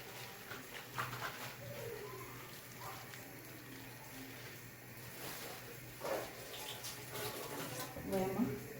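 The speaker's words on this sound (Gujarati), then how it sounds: "બસ આમાં હવે આપણે થોડું પાણી એડ કરી દઈએ." Water poured from a tap into idli batter in a home kitchen, a soft steady running-water sound at low level, with a few brief clatters and some indistinct voices near the end.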